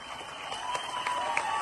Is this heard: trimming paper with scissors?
no